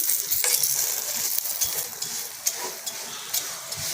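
Potato paratha frying in a little oil on a low flame gives a bright, steady close-up sizzle with a few faint crackles and light clicks, and no one speaks.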